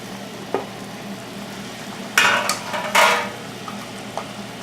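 Pork chops cooking in a pan of cinnamon apple mixture, a low steady sizzle under a few sharp bursts of spatter and scraping as the chops are shifted.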